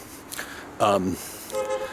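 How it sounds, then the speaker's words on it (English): Car horns honking at each other in traffic, a short toot and a longer honk standing out from the street noise, with a person talking nearby. "everybody's honking at each other."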